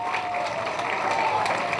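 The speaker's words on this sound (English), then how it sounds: "I'd like for all the Newport Beach Fire and Lifeguard personnel to please stand for a round of applause" Dinner guests at a fire and lifeguard awards event applauding as Newport Beach fire and lifeguard personnel stand, a steady, full round of clapping with a faint murmur of crowd underneath.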